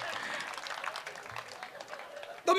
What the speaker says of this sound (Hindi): ताली बजाइए, मेरे मित्र के लिए ताली बजाइए।